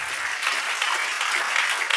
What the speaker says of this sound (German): lass uns mal Jesus einen Applaus geben